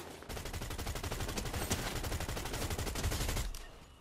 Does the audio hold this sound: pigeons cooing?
no